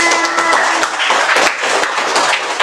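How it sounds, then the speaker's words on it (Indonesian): Children in a classroom clap together in a steady, close burst of applause lasting a few seconds, with a faint held tone running briefly underneath. "Tepuk tangan."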